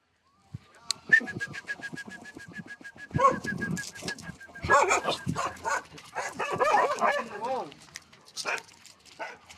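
Household dogs bark in a series of short, sharp bursts at mid distance, mixed with people talking and a few bird calls in the background.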